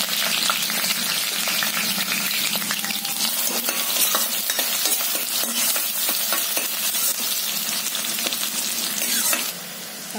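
Curry leaves and onion hit hot oil in a pan with a loud, close, continuous sizzle and crackle plus scraping stirs and light metallic clinks, easing off slightly at the very end.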